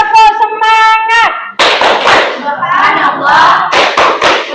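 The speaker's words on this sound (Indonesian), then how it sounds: "Tepuk semangat." Indonesian students stand in class for a rhythmic clapping chant as an energizing ice-breaker, starting with a sung call, then loud group claps and shouted words in a patterned beat, close and lively.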